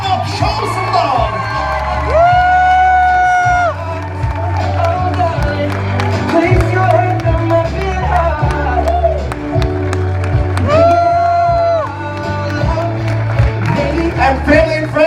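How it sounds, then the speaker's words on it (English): Wedding reception guests cheer, whoop and clap as the newlyweds are introduced, a loud, dense crowd roar with shouts rising over it that runs steadily through the clip, swelling in bursts. "Give them a nice round of applause."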